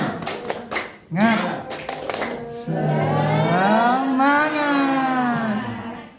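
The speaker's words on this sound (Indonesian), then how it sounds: "Tepuk semangat, mungkin kan sudah sering kita praktekkan ya Bapak Ibu." A group of teachers does a rhythmic spirit clap, a quick series of sharp synchronized claps followed by voices shouting together in unison.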